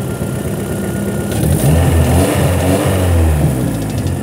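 A car engine idles steadily and smoothly after a detonation knock sensor was fixed, with a loud, even running note and a slight rise partway through, close by and without talk.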